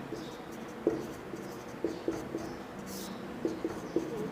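Marker or chalk tapping and scratching out numbers on a board during a Hindi maths lesson on number systems, with a string of short, faint strokes over a quiet room background.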